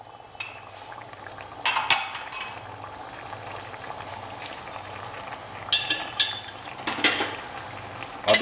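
Mutton is stirred with crushed green chilli and garlic, giving intermittent metal-spoon clinks against a vessel over soft, wet squelching, close by and with no talking.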